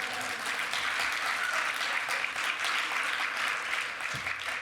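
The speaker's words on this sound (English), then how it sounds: "I feel like we should clap for that." Audience applause fills the room for a few seconds, steady and dense with many hands clapping, after a remark at a panel on gender and politics about the Boston City Council.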